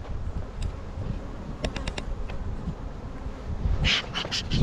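Bees buzzing around beehives in a nuc yard: a continuous low drone with close insects flicking past in short bursts, growing busier and louder toward the end.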